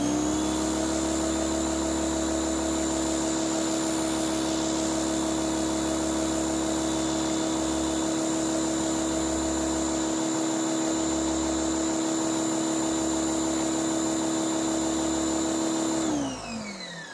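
Pressure washer running steadily outdoors in very cold weather, a loud continuous motor and pump drone with a strong steady whine, holding constant before winding down at the end.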